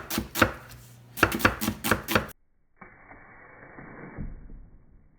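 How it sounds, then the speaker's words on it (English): A kitchen knife chops onion on a cutting board for a cheeseburger, giving a quick series of sharp, close chops in two clusters, then a pause and a softer rustling. "we're gonna cut up some onion to caramelize them"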